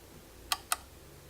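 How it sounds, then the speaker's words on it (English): Two crisp, close clicks about a fifth of a second apart from the motor of an original Wyze Cam Pan security camera starting up, set against a quiet room with no talking. "there is like an initial click sound when the motor is turning on"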